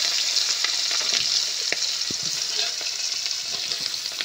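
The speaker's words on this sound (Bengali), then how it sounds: "এবার চিংড়িগুলো আমি তেলে ছেড়ে দেবো।" Prawns frying in hot oil, a continuous bright crackling sizzle with small pops and occasional soft stirring scrapes, close and steady.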